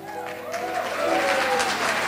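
An audience applauds as Ameen Sayani is welcomed on stage at a live event, a steady moderate wave of clapping with a sustained musical tone underneath.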